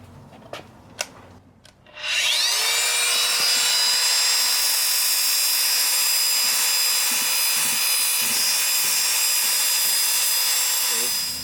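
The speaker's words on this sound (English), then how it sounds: "this will be stage 1, 50 grit polishing pad" A polisher fitted with a 50 grit pad grinds the surface of a stoneware ceramic piece. A few faint knocks come first, then the motor spins up into a loud, steady, high whine that holds with a gritty rasp until it winds down at the end.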